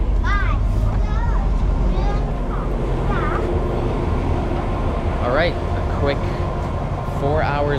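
A steady, heavy rumble of a train in Thailand fills the whole stretch as it arrives near Bangkok, with people talking over it and brief high squeaks rising above the noise.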